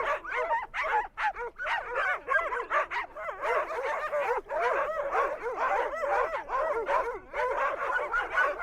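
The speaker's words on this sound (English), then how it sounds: "Put a number of dogs together, signal the concept of a walk, and they all start barking." Several dogs bark, yip and whine excitedly together before a walk on Russia's Kamchatka Peninsula, a close, overlapping chorus of rapid yelps that keeps going without pause.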